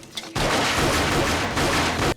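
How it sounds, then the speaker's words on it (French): A silenced pistol fires in the film Desperado: a dense, loud burst of blasts and clattering action sound filling the scene for nearly two seconds, then cutting off abruptly. "écoutez maintenant le son de son arme lorsqu'il tire"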